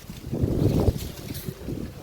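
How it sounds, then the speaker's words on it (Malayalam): Strong wind gusts over a small home farm plot of okra plants, buffeting the microphone with a low, rumbling roar that swells and eases over two seconds, with no voices. "പിന്നെ വെണ്ട ഭയങ്കര കാറ്റ് കേട്ടോ"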